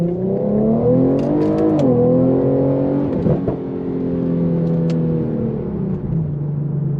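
An Infiniti Q50 engine with a burble tune revs loudly and steadily, pitch climbing and dropping across gear changes, with a brief rattling burst partway through.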